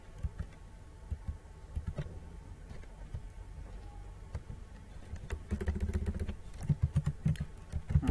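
Computer keyboard typing while entering HTML web page code, heard as scattered sharp key clicks that grow into denser, louder bursts toward the end, close and alone without talk.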